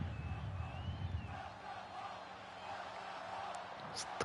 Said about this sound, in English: The crowd very antsy here